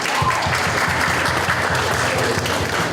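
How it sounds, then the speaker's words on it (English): Sustained applause from an audience at a youth festival in Aligarh, dense and even clapping throughout with no pauses. "And please give them a round of applause as well."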